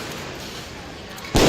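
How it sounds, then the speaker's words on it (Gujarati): Firecrackers: a steady low background gives way near the end to a single loud, sudden broadband bang that stays loud to the close. "તમે આટલા બધા ફટાકડા ફોડીએ છીએ."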